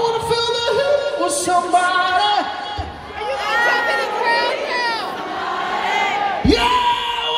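A concert crowd at an Atreyu show sings a chorus back in unison, loud and sustained with many voices blending, as a roar of cheering rises toward the end.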